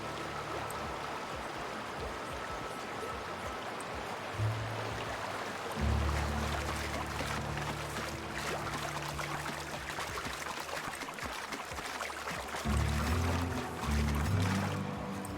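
A waterfall in the video game The Outer Worlds, a continuous rushing, splashing flow of water with low tonal game sounds rising and falling underneath.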